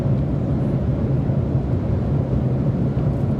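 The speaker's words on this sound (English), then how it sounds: "So I layered that with a really compressed rumble, and it has that really heavy sound as if you're sitting in the airplane" Designed airplane cabin engine rumble, heavily compressed and low, steady and loud with the high windy content muffled as if heard through the cabin walls.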